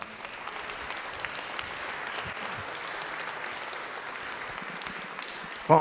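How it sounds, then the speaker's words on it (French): Steady, moderately loud audience applause at a La Fontaine tribute event, a continuous wash of clapping for several seconds with a brief louder burst at the very end. "Vous pouvez l'applaudir, voilà."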